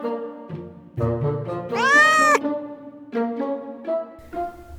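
Virgil, a young cat adopted as a kitten, meows repeatedly up close: a string of short chirps and mews, then one long, loud, drawn-out meow, followed by more short calls.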